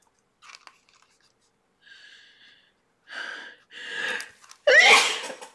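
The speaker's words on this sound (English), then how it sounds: "I'm gonna sneeze." A woman at a paper-crafting table sneezes loudly and close after a few quiet breaths and sharp inhales, the explosive sneeze landing at the end after a rising gasp.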